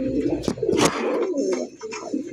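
Pigeons kept for sale coo nearby, with soft, low, throaty burbling calls repeating over a brief stretch, mixed with a few sharper rustles and clicks.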